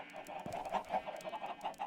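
Soft, repeated clucking of blocky chickens in Minecraft, a steady chatter of short calls at a moderate distance with low game ambience beneath.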